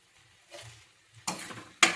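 Cauliflower and potato curry stirred in a pan, a few short scraping bursts with a brief sizzle, the last two louder and closer, with no talk.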